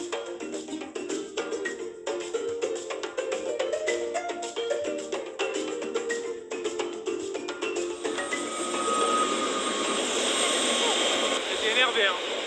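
A helicopter carrying passengers drones steadily with a buzzing engine and rotor whine that grows louder and fuller toward the end, while people talk over it.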